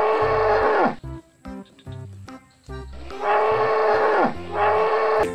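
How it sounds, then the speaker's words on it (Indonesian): A water buffalo in a video game gives several long, deep moos, loud and close, with brief gaps and a few short grunting sounds between the calls. "ada juga satu ekor kerbau nih teman-teman"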